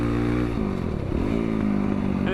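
A tuned, slightly rich-running trail motorcycle engine revs hard at high RPM, a loud, close, continuous buzzing wail that dips briefly and climbs again.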